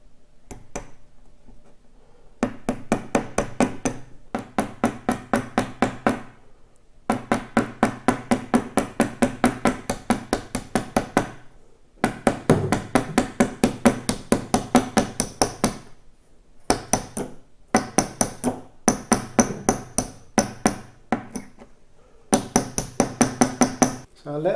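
A hammer taps nails into the board of a picture frame in rapid bursts of sharp, close knocks, with short pauses between each run of strikes.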